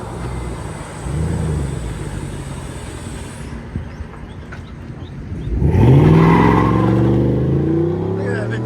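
A 2022 Chevy Silverado RST with a 5.3L V8, Flowmaster Outlaw exhaust and stock resonators rumbles at a deep, loud idle, then revs hard into a throaty roar that holds before easing back down.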